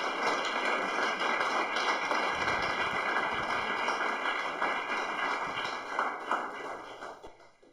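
Steady applause from a seated audience after a talk by the CEO and founder of JamboPay, a dense, even patter of many hands that holds, then tapers off at the end.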